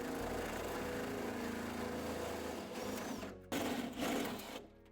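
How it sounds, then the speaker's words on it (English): A drill bores a 22mm hole through the inner sheet-metal panel of a BMW G87 M2 or G42 M240i during a rear wing install, giving a steady loud whine for about three seconds before it stops and short bursts follow. "when you drill this 22mm hole in this inner sheet"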